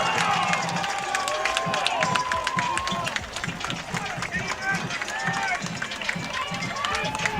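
A high school football crowd roars steadily at a Greenwood Bulldogs game against the Saints, a dense, sustained wash of cheering that never drops away while commentators talk over it.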